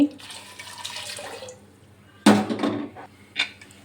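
Water splashes into a pressure cooker holding mangoes: a soft trickle first, then a louder pour that tapers off, followed by a brief clatter of the pot in a home kitchen.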